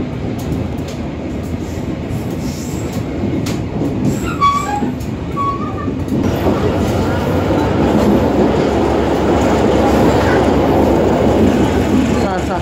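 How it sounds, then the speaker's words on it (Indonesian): Heard from inside the carriage, an Indonesian passenger train runs near Purwakarta with a constant rumbling roar and rhythmic wheel clatter. The sound swells louder toward the end, and a brief faint squeal or tone rises midway. "Tidak akan lama lagi kereta akan berhenti di stasiun Sukatani."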